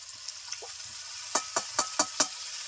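Tomato paste frying in a pan with ginger garlic paste for a home-style katla fish kalia, a soft steady sizzle broken by five sharp, evenly spaced stirring scrapes near the end.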